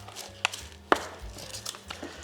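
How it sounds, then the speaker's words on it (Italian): A knife chops pancetta into small pieces on a board while making sausage links, with a few sharp, separate close taps and quiet stretches between them. "Taglio solo più piccolo la pancetta"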